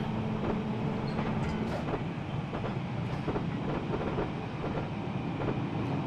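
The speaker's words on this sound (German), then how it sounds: "Nächste Güterzug, der rauf auf den Berg fährt." A simulated freight train climbs a mountain grade on the Woodhead Line in Train Simulator Classic, a steady rumbling roll with rhythmic clickety-clack of wheels over rail joints, close and continuous.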